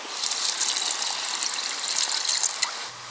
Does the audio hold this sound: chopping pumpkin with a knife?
no